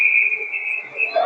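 A referee's whistle at a Shakopee versus Edina hockey game gives one long, steady, piercing blast lasting over a second, fairly close and loud, with faint arena noise beneath and a slight waver near the end.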